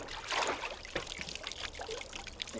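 Laundry being rinsed by hand after washboard scrubbing, with soft splashing and trickling water sloshing continuously at close range.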